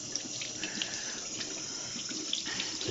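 Steady tap water pouring into a sink, a constant splashing hiss with no voices.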